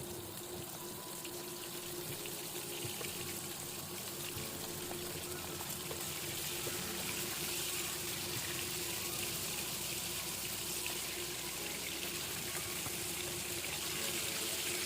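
Steady, even hiss of rupchanda fish frying in hot soybean oil, a constant broadband sizzle with no breaks and no voices over it.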